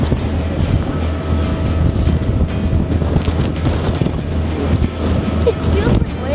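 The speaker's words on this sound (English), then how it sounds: "A little bit of water spray, a little bit of rocking and rolling." Waves and salt-water spray strike a rocking ferry on a coastal crossing near Glasgow, a steady broadband wash and rumble of wind and water that stays loud throughout, with a low engine drone underneath.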